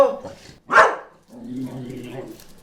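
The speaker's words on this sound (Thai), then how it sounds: "หยุดเห่า" One loud, close bark from a dog cuts in between stretches of someone talking.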